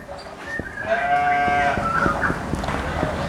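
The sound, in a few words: Dorper sheep bleating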